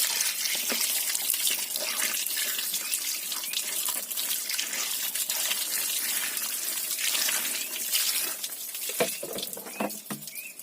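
Tap water runs steadily into a sink as a large fish is washed for tinola soup, a continuous splashing gush close by with no talk.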